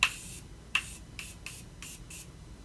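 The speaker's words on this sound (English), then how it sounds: "so now I'm gonna spray my face" A face setting spray hisses in six short, close bursts during makeup, each a quick airy puff, spaced unevenly apart with quiet gaps between and no talk.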